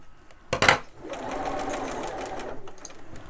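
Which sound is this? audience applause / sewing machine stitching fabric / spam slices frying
sewing machine stitching fabric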